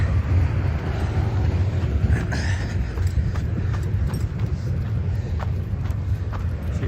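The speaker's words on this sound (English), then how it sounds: "I always think that's funny when they just put a semi-trailer on top of the train." A freight train carrying containers and semi-trailers passes at close range, producing a continuous loud rumble with rhythmic clacking of wheels over rail joints and intermittent metallic squeals, with no voices.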